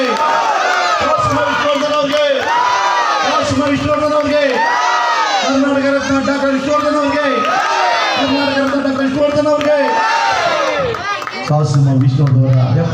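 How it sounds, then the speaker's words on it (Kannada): A large crowd cheers, shouts and chants loudly and continuously in rising waves at a cake cutting held for Vishnuvardhan's 75th birthday celebration on Bannerghatta Road. "ಒಂದು ಕೇಕ್ ಕಟ್ ಮಾಡ್ತಾ ಜೋರಾಗಿ ಚಪ್ಪಾಳೆ ತಟ್ಟಿ."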